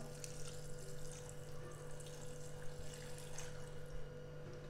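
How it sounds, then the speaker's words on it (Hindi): About half a glass of water goes into a clay pot during mutton cooking, a faint, steady watery trickle against a low background hum. "इसमें मैं 1/2 गिलास के करीब पानी ऐड कर लेता हूं,"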